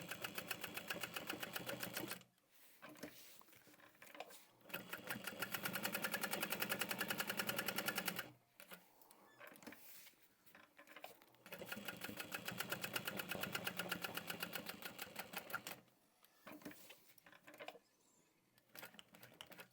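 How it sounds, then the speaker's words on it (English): A sewing machine stitches a tote bag in fast, even mechanical bursts of several seconds each, separated by short pauses, close and steady. "I'm just doing 1 stitch over, coming down, back stitching, going around again"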